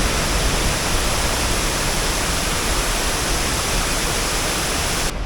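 Skradinski waterfall at Krka National Park in Croatia roars in a dense, unbroken rush of falling water, loud and close for the whole stretch with no voices.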